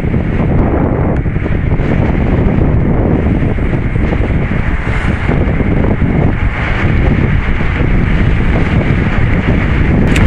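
Loud, constant buffeting wind roar rushes past the microphone while riding a 2016 Zero DSR electric motorcycle, with no engine note audible beneath the rumbling gusts.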